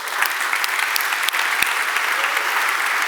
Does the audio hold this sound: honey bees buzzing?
no